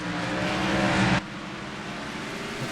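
Race car engine roaring loudly at speed around Watkins Glen in an ISCR Cup racing video game, with a steady high drone that drops abruptly in level partway through, no voices.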